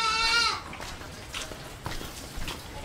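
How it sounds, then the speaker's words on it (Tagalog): On a farm, a goat lets out one loud, close, wavering bleat, followed by fainter bleats and rustling from the pen. Dorper sheep are also kept there. "Yan, ito yung mga kambing"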